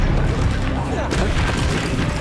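Expelliarmus spell effect in Hogwarts Legacy during combat, a loud booming magical blast layered over dense battle noise and a shouting voice throughout.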